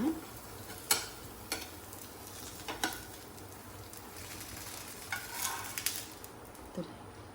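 A crispy dosa made with ghee sizzles softly on a hot pan, a low steady frying hiss punctuated by a handful of sharp scraping and tapping clicks from a spatula.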